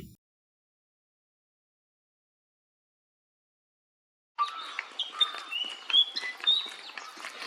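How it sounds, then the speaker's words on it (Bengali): After a stretch of silence, a fantail starts calling near its nest with a busy run of sharp chirps and thin whistles that keeps going to the end, in Satpura Tiger Reserve. "ফ্যানটেল এখানে বাসা বানিয়েছে সেই জন্য তার গলার আওয়াজটাও একটু বেশি"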